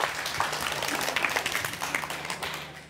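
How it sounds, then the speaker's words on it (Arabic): An audience at a quiz show claps and applauds in a steady, dense wash of hands at moderate volume for about three seconds, with no voices. "أول نقطة أنا سمعت تصفيقة كبيرة كبيرة كبيرة"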